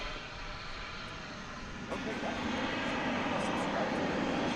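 A fixed-wing airliner taking off or landing at DFW Airport, a broad engine roar that swells and grows louder partway through, heard from a distance with a person's voice faintly in the background.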